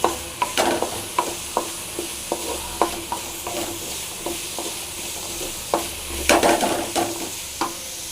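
Pepper fry of palakottai and black pepper being stirred in a hot pan, a spoon scraping and clacking in irregular strokes over a steady low sizzle, close and moderately loud with no talk.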